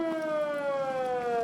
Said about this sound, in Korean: 사이렌 소리와 함께 대원들이 신속히 뛰어나갑니다